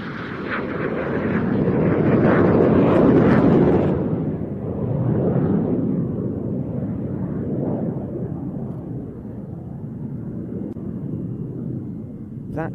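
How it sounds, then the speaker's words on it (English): A Solo Turk F-16 jet roars past in a flying display pass at an airshow, a loud, rumbling surge that peaks and then fades into a long, distant, broad roar. "That felt like a final pass to me, and I think we'll see Solo Turk landing off this split S manoeuvre"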